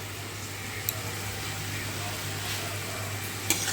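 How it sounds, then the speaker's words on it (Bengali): Ground spices sizzle in hot oil as they are stirred in a pan for a homemade mushroom curry, a steady soft frying hiss with a low hum beneath and a couple of faint scraping clinks. "এই মশলাগুলো দিয়ে ভালো করে নাড়াচাড়া করব"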